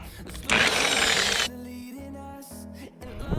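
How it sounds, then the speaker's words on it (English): Power polisher working a car headlight lens on a Porsche 987 Cayman, whirring close and loud for about a second and then dropping to a lower steady hum. "just go ahead and run it over with the polisher again. Polisher, round 2."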